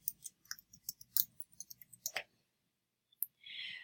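Computer mouse clicks in a quick irregular series, close and crisp in an otherwise quiet room, followed by a short pause, one more click and a brief soft rustle.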